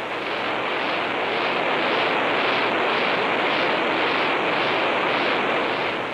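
An X-15 throttleable rocket engine roars through a ground test run, a loud, dense, unbroken blast of wideband noise holding steady for several seconds, with no talk over it.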